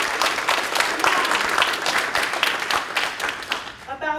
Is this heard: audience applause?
yes